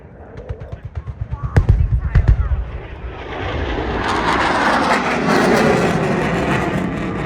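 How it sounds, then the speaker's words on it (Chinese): Fighter jet at the Avalon Airshow, opening with a fast pulsing roar that swells into a loud, sustained broadband rush as it sweeps overhead, with crowd and other airshow noise underneath. "哇，那个战斗机来的真是猝不及防啊！"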